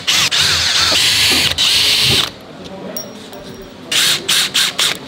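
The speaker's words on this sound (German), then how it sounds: "wenn ihr euch ein DD-Becken bestellt und ihr habt keinen Akkuschrauber, lieber gleich mitbestellen" A cordless screwdriver whirs in short bursts, backing screws out of the wooden shipping crate of a 170-litre D-D Reef Pro 600 cube aquarium, loud and close, with a quieter pause between runs.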